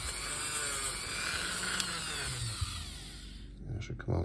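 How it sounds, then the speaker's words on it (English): A small Dremel rotary tool grinds corrosion from a Lucas Triumph bulb socket with a steady, loud, high-pitched whine that runs continuously, then cuts out near the end with a few knocks. "I'm going to use this small Dremel here. I'm just going to hit it like that all the way around."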